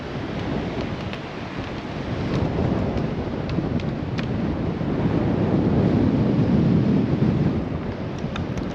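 Wind gusts across a beach at sunrise, a steady broad rush that swells in the middle and stays loud throughout, with no voices over it.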